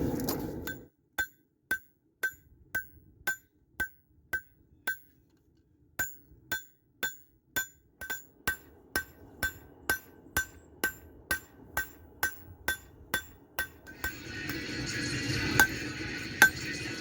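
A hammer rings on hot 52100 steel while a camp knife is forged, with about two dozen sharp metallic strikes in a steady rhythm after a brief pause, then a rising hiss of heat or rough background noise at the end.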